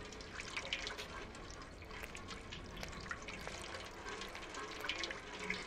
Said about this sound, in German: Oh, Wasser.